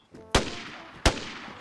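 Two loud, sharp gunshots from the DayZ video game, spaced about 0.7 seconds apart, each cracking hard and then trailing off in a long echoing tail over low background noise.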